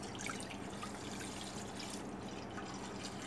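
Half a kilo of milk pours steadily into a kadhai set on a lit gas stove, making a soft, continuous liquid trickle with no speech.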